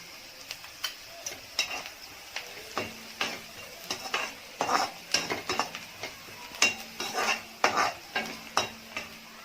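Turmeric being stirred and fried in a pan for pepper chicken, with repeated spoon scrapes and clinks against the pan over a soft, steady sizzle, fairly quiet and close.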